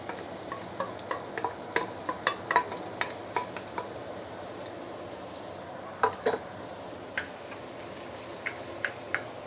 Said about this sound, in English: Saute this for a minute or 2.